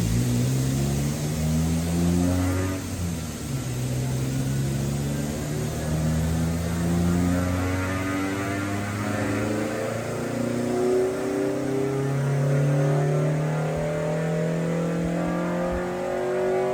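Honda D15B SOHC engine in a bracket and grid race car revving hard on a dyno, loud and continuous, climbing through rising engine tones with brief dips between pulls, no talking.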